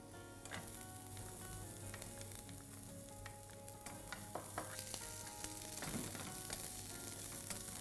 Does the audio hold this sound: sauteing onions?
yes